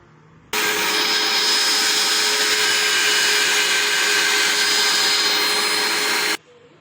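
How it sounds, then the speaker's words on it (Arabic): A meat mincing machine fitted with a fine plate grinds burger mixture with a loud, steady motor whine. It starts abruptly, runs unbroken for about six seconds, then cuts off. "هضربهم بقى مع بعضهم ضربه تاني في المكنه"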